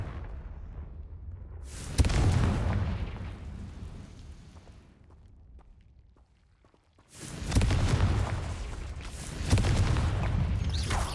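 Confringo spell explosions in Hogwarts Legacy, two loud booming blasts several seconds apart, each followed by a long rumbling, crackling decay, with a quieter lull between them.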